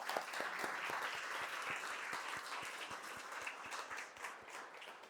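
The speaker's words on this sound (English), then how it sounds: "clap it up for yourselves first and foremost" Audience at a stress and energy talk applauding steadily, a dense, sustained wash of many hands clapping at close range, with no speech over it.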